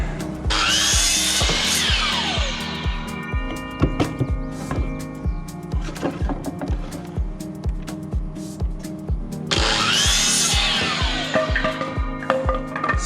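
A power saw rips through a wooden framing stud for a barndominium bathroom window wall, loud and close, with a rising whine at the start and end and a steady run of rhythmic low knocks through the middle.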